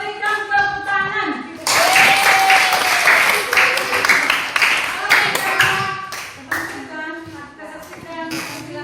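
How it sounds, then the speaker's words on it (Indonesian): Audience applause breaks out after a group presentation in a Christian religious education class, with a voice speaking briefly before it and dense clapping continuing under ongoing talk. "Baik, kita berikan tepuk tangan."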